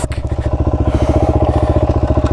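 A motorcycle rides a dirt trail on an adventure ride, its engine chugging in a steady, rapid pulsing rhythm, loud and close, with wind noise over the top.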